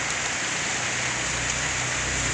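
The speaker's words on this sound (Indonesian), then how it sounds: "dan situasi hari ini di kawasan Tekung lagi hujan ya" Steady rain falls in a town area during the Lebaran holiday travel season, a dense, even hiss of drops on surfaces that carries unbroken throughout with no voices.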